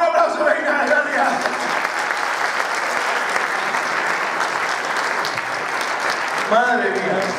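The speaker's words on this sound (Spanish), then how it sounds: "un aplauso" Audience at a live comedy show at a cultural centre breaks into sustained applause, dense clapping filling the room for several seconds, with voices rising near the end.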